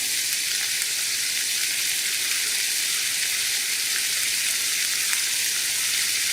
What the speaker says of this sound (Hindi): साथ ही मैं चिकन ऐड कर देती हूँ। लहसुन डाल देती हूँ, फ्राई हो जाएगा साथ ही।